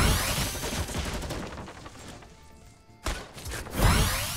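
Pump shotgun blasts in a Fortnite duo match, several loud broadband bursts packed together in a busy exchange of gunfire, a brief lull, then more sharp shots near the end.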